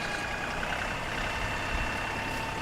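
An LS tractor engine runs steadily during a potato harvest, a continuous mid-level mechanical drone with a faint tonal hum, without talk.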